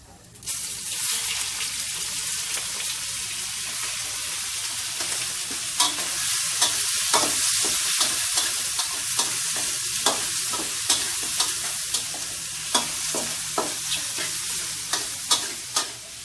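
Cuttlefish sizzles steadily in a hot wok for Thai pad kaprao while a spatula scrapes and taps the pan in repeated, increasingly frequent clacks, loud and close throughout.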